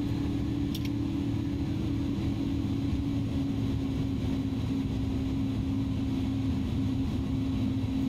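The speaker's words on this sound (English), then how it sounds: "That was our first full successful flight in the Airbus A310." Airbus A310-300 airliner in a flight simulator game, a steady, even engine drone that holds without change for the whole stretch, with no talking.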